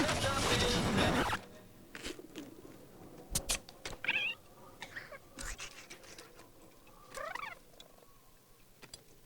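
A cat in a Christmas television commercial gives several short meows and cries, spaced out and fairly close, over quiet background sound after a loud opening burst.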